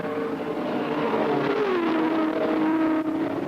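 Porsche race cars at Watkins Glen in 1978 scream past at about 180 mph on the back straight, a loud sustained engine drone with a falling pitch as they go by.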